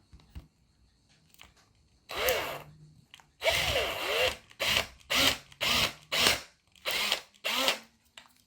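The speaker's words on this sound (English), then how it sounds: "But I happen to have my drill handy." A handheld power drill boring through a plastic RC car part, a short whir followed by a series of close, loud bursts with gaps between them.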